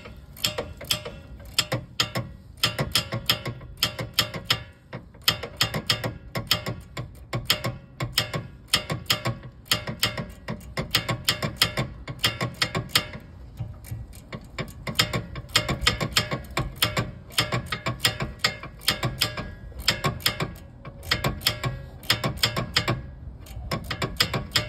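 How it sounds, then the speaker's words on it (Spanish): A hand ratchet tightens a brake caliper bolt on a Volkswagen with an electric parking brake during a pad change, clicking fast and steadily for the whole stretch, close and loud, with no talk. "apretamos el segundo perno"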